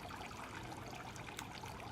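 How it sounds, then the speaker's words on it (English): Faint, steady trickling water from a garden fountain runs continuously without speech. "Water fountain is looking lovely."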